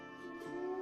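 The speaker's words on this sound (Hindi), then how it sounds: "कुत्ते लगातार भौंक रहे थे" Dogs in a children's cartoon bark and yip continuously over a soft, even background, a brief, faint burst of canine sound.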